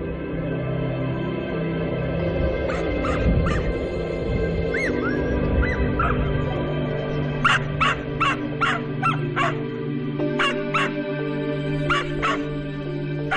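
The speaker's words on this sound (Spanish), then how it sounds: "me recibieron los ladridos de un perro atado entre los restos de vigas y viejas ruedas de vagones" A tied dog among old beams and wagon wheels in the wild landscape of Jandía Natural Park barks repeatedly from a moderate distance, in irregular bursts of sharp barks over steady engine-like background rumble.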